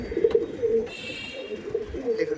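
A male and female pet pigeon pair cooing close by, several soft, low throaty coos in a repeating rhythm, alone, with a faint background hum.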